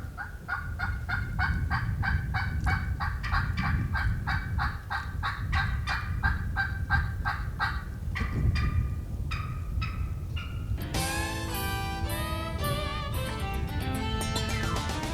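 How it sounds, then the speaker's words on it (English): A wild turkey gobbler gobbles over and over in quick succession, loud and fairly close in open woods, followed near the end by a burst of higher, rattling calling. "having a gobbler respond to their calls"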